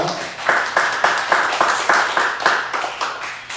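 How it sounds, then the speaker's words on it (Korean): A church congregation claps in a Sunday worship service, the applause falling into a clear unison rhythm of about two beats per second, moderately loud and close. "하나님께 박수 좀 드리겠습니다"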